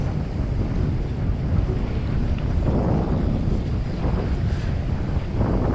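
Strong wind buffets the microphone at sea while fishing off Geoje Island, a continuous loud rushing roar with faint water and boat sounds underneath and no talking.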